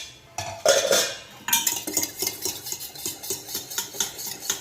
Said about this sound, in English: take 4 spoons of curd. Beat the curds